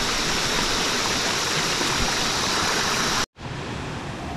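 Creek water rushes over rocks at Love Creek Falls near Brisbane, a loud, dense, continuous roar that cuts out abruptly for a moment, then resumes.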